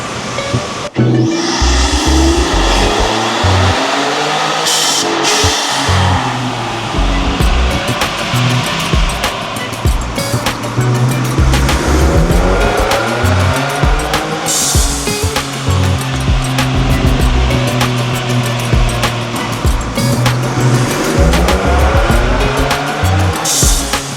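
A Ford Ranger Raptor with newly installed turbos makes its first dyno pull. The engine roars loudly and continuously, and its pitch rises and falls through repeated gear sweeps over about twenty seconds.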